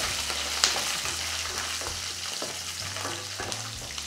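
Vadagam and garlic cloves fry in hot oil for a snakehead murrel fish curry, a steady close sizzle with light stirring scrapes and one sharp tap near the start, and no speech.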